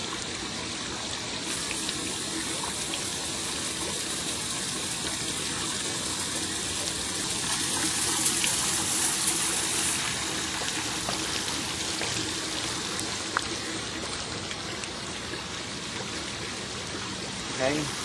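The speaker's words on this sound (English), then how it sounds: "there's a pump in the water and it just recirculates in the pond" A backyard garden pond water feature, whose pump recirculates the water, splashes and trickles continuously as a steady mid-level gush, with a voice talking over it.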